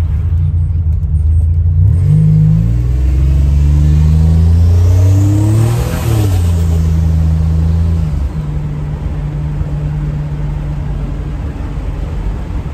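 A Buick Grand National with a recently repaired transmission pulls away in a quick takeoff, its engine revving up loudly through a gear change, then settling into a steady cruising drone.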